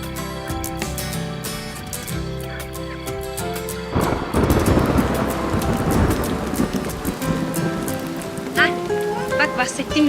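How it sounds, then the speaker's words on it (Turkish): Rain falling outdoors along a path at night, a steady patter under a background of musical tones, growing heavier and denser midway through with scattered sharper drops. "Yağmur da yağıyor."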